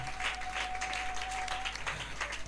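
A church congregation applauds and cheers for a father figure, a steady wash of clapping and crowd noise filling the whole stretch at moderate level, with a faint sustained tone running beneath.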